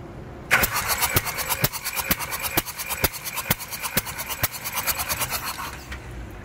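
A Mitsubishi Triton 3.2 engine cranks over on the starter during a cylinder compression test, giving about a dozen evenly spaced, loud mechanical pulses over a steady whirring drone, with no speech.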